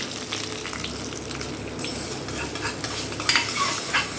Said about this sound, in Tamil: தாளிப்பு இதில் மிக்ஸ் பண்ணிக்கலாம்.